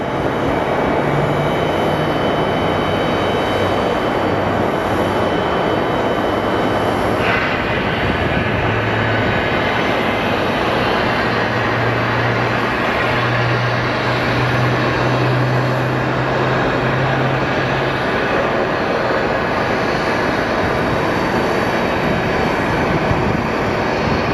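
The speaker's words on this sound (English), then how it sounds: "That is an A321neo. It's an amazing plane." An Airbus A321neo airliner at Sky Harbor Airport makes a loud, steady broadband engine roar that holds for more than twenty seconds, with a faint low hum wavering beneath it.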